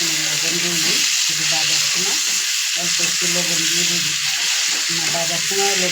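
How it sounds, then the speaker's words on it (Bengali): Tomatoes and onions fry in a pan for a hilsa and water lily curry, a loud, constant sizzle running throughout while someone talks over it. "টমেটো ভালোভাবে ভেজে গলিয়ে নিয়েছি"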